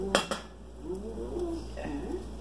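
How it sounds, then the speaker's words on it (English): Leftover turkey meat being tossed with spices in a dry pan, with two sharp clanks of a utensil on the pan near the start followed by soft, steady sizzling and scraping. "toss the meat around so that it gets coated in the spices"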